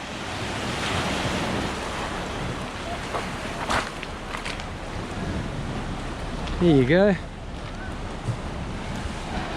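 Ocean waves wash onto a beach at Drašnice, a continuous nearby surf roar mixed with wind buffeting the microphone, while a voice speaks briefly.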